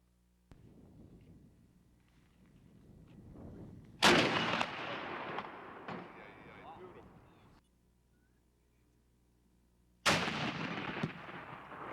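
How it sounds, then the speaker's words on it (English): A cannon fires at a ship section in a live fire exhibit at a maritime museum, two loud booming shots several seconds apart with long rumbling decays, and voices faintly audible between them. "the guns were positioned to fire at the ship section from 200 yards"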